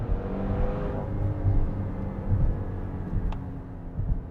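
A Maserati engine surges under hard acceleration, a deep, steady rumbling drone with low harmonic growl that swells and eases slightly over several seconds, heard from inside the car with no talking.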